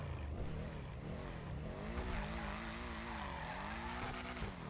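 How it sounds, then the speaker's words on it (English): A car engine in the video game GTA V drones loudly and continuously, its pitch rising and falling as the vehicle revs and shifts, with tire squeal mixed in. "Oh yeah, the engine sound is"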